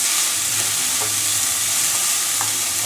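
Onions fry in a pan and are given a stir, making a continuous close sizzle broken by a few soft scrapes of the spoon, with no talking.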